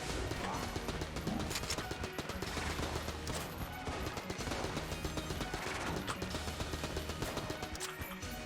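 Rapid Tommy gun fire in Enter the Gungeon, a dense, continuous rattle of shots mixed with impact crashes and hits that keeps going the whole time.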